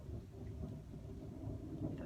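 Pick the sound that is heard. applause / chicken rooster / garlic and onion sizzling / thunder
thunder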